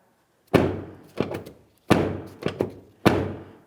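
A 2007-2014 GMC Sierra 2500 HD pickup's rear door, with a replaced exterior handle, thunks shut and is worked repeatedly: several solid slams and latch clicks in quick succession, close and clear, no voices.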